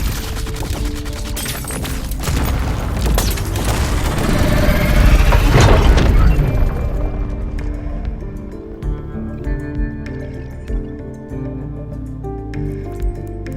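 Dense bursts of gunfire in the game Love and Deepspace rattle rapidly over aircraft engine rumble and music, building loud before thinning into scattered shots.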